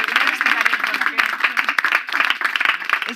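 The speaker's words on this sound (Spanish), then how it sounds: "Fuerte aplauso para Laura" Brisk, close applause for a participant named Laura, a short burst of many hands clapping steadily with voices mixed in.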